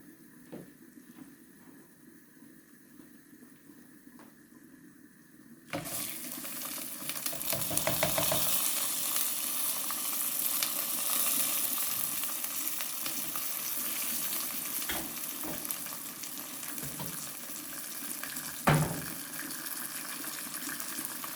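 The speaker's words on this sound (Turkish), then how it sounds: "Şimdi pirincimizi ekleyeceğim." Rice is tipped into a pan of toasted vermicelli for a vermicelli rice pilaf, setting off a sudden loud, steady sizzle that starts a few seconds in and carries on close by, with no talking.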